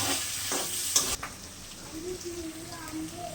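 Onion and garlic frying in a pan for a taro-leaf sour curry, a loud hiss and crackle at first that quickly settles into a softer sizzle with faint tonal sounds.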